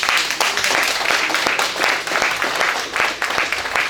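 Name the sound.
audience applause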